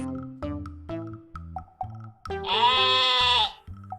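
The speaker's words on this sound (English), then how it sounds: "This is a sheep." A sheep bleats several times in short, wavering calls, ending with one long, loud, quavering bleat, close and clear.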